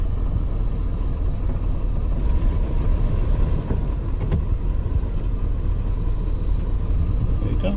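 An RV's engine runs with a steady low rumble as the vehicle creeps forward, heard from inside the cab at a constant moderate level.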